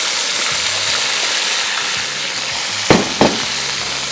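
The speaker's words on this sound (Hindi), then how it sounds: "ऑयल जैसे ही गर्म हो गया, इसके बाद हमने सिंपली ये भिंडी शामिल करूँगा" Okra dropped into hot oil in a home kitchen, giving a steady loud sizzle and frying hiss throughout, with two sharp clatters near the end as the pan is stirred; no talking.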